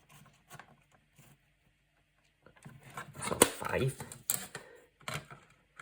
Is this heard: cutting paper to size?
yes